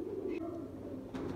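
Sialkoti pigeons cooing close by, a low throaty coo that swells and repeats in short phrases over a quiet background.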